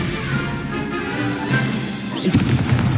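A Confringo fire spell from Hogwarts Legacy bursts in a steady rumbling blast, with a sharper crack near the end, continuous and fairly loud with no voices.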